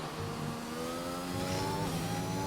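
F1 car engine in the video game F1 22 at the Imola circuit, a steady high-pitched engine whine holding and rising slightly as the car accelerates, loud and continuous.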